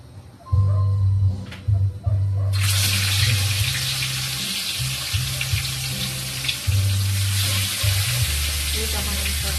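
Pork chop frying in a pan, the sizzle bursting in loud and steady after a quieter start and holding throughout, with a low droning hum and faint voices running beneath it.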